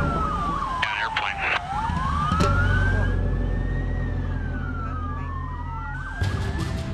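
Fire engine and police sirens wail and sweep up and down, loud and close, answering the crash of a plane into a Fort Myers building, with crowd noise and bursts of other sirens around them.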